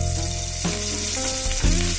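Curry leaves hitting hot oil in a kadai, producing a bright, crackling sizzle that flares up in bursts over a steady hum, close and fairly loud, with no talking.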